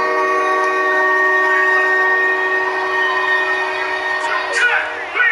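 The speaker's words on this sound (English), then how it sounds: "there's that train whistle the Bills use when the opponent has a 3rd down" A steady, sustained train whistle with several harmonic tones sounds over a noisy football stadium crowd at Buffalo Bills home game on an opponent's third down, holding for several seconds.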